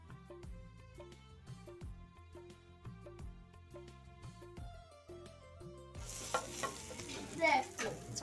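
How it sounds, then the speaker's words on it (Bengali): Whole unpeeled potatoes go into a simmering egg curry, setting off a rough sizzle and bubbling during the last couple of seconds, partly under steady background music that plays throughout. "ডিমের ঝোল কষানো হয়ে গেছে আলু দিয়ে দিচ্ছি"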